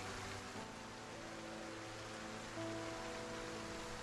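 Steady rain from the Project Zomboid video game, a dense continuous hiss of falling water that stays fairly quiet and even throughout, with no voices over it.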